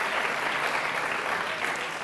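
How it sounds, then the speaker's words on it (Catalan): Loud, dense audience applause at a Catalan television word quiz, a continuous roar of clapping at a steady level with no speech. "un fort aplaudiment"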